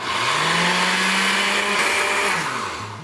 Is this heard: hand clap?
no